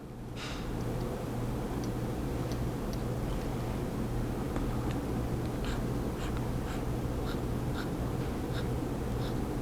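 A dip-tested Jinhao X159 fountain pen with a fine nib makes faint, soft scratches on paper, a scatter of light strokes over a constant background hiss.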